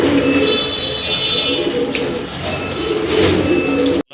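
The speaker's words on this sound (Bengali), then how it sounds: "এটাও সাপচোখের একটা মাদি কবুতর" Pigeons in a cote for sale, including a snake-eyed hen, coo in low, repeated throaty pulses, close and fairly loud, over a faint electronic whine and no talk.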